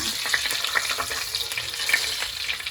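Food frying in hot oil in a home kitchen, a steady bright sizzle with crackling pops and faint stirring, close and continuous with no talking.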